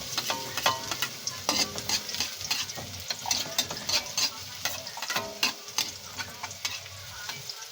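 Garlic sautéing in hot oil for home-style Filipino chicken with tomatoes, a steady close sizzle broken by repeated scraping clicks of a utensil stirring against the pan.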